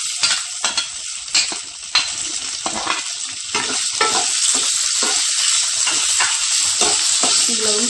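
Curry leaves sizzle and crackle in hot oil while being stirred for kozhukkattai, with a steady loud frying hiss and repeated spoon scrapes throughout.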